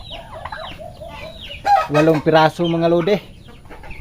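Young turkey chicks on a banana farm, with high peeping calls early on, then a louder run of harsh fowl calls in the middle, while someone talks nearby.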